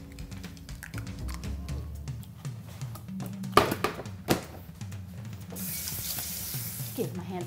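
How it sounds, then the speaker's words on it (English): A kitchen tap runs while hands are washed during cooking of chicken and dumplings, a steady close splashing stream with a few clatters, swelling into a brighter gush near the end. "Give my hands a quick wash."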